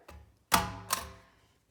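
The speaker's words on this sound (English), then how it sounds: "Take and make 1 staple on one side and then on the other." A desk stapler punches two staples through folded paper, one after the other, each a sharp close crunching clack about half a second apart, following a softer preliminary press.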